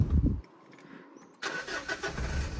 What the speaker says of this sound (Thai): ฟังเสียงเครื่องยนต์กันนะครับ ตัวนี้เดี๋ยวลองเปิดแอร์สตาร์ทดู